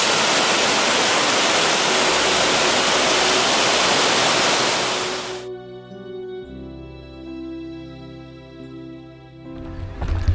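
A waterfall on the Saboredo river pours down between rocks, a loud, steady broadband roar for about five seconds before it cuts to quieter music.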